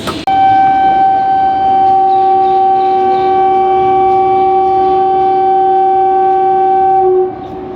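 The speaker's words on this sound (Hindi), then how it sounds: "एक और हॉन्ग और ट्रेन हमारी डिपार्ट।" A departing passenger train sounds its horn, a loud, steady sustained blast with strong harmonics lasting about seven seconds before cutting off, heard alone on a platform on a Barmer–Rishikesh festival special service.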